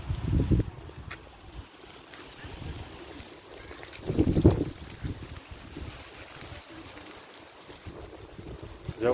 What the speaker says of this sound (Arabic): جو خريفي بامتياز، هواء